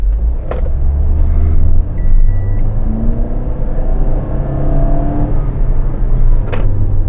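A 2017 Toyota Voxy with a 2000 cc engine accelerates along a fairly straight road, a steady loud engine drone and cabin rumble rising in pitch through the gears with no talk over it.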